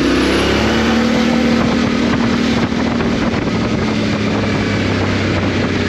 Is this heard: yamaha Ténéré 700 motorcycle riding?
yes